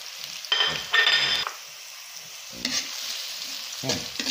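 Ginger, onion and chili sautéed with isaw in a hot pan, loud close bursts of sizzling and scraping as the food is stirred, separated by quieter frying, with no voices.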